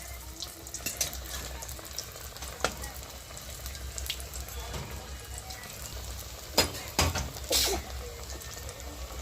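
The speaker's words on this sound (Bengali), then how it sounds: "আরেকটা সাইড উল্টে ভাজা হবে" Chicken chops frying in hot refined oil after being turned to cook the second side, giving a continuous close sizzle with scattered clatters and louder bursts near the end as they are moved in the pan.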